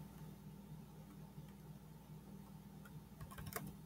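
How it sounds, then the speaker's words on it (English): Soft, steady typing on a computer keyboard as a website name is entered, a quiet run of small clicks with a slightly busier flurry of keystrokes near the end, no talking. "I'm just going to type in something, just making it up"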